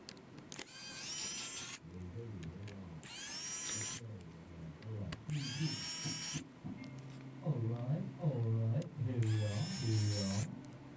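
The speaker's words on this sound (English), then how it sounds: "now we can remove the screws which is holding on the motherboard" A small powered screwdriver backs out the motherboard screws inside a Samsung Galaxy Book 3 Pro laptop, giving four short, high whirring bursts that alternate with someone talking nearby.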